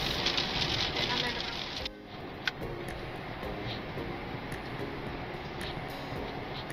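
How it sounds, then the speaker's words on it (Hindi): Rain patters steadily against a vehicle driving on a national highway in India, over a constant road rumble, with a brief dip and a single sharp knock near the start. "धूप भी है हल्का हल्का और बारिश भी हो रही है"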